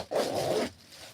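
A plastic zipper on a handmade peplum blouse is pulled in one smooth, close zip that lasts about half a second and then stops.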